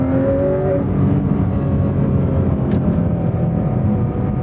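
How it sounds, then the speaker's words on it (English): A Porsche 718 Spyder RS engine revs high with a loud, sustained mechanical roar and rising whine, heard from inside or close by on a wet road, with no voices. "This revs out all the way to 9 grand, and boy, does it sound magnificent"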